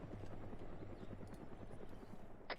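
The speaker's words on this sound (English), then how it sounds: "Be advised, helicopter flying overhead." A helicopter passing overhead during an outdoor team game session, a steady rhythmic rotor chop that stays constant and fairly faint, with a brief sharp click near the end.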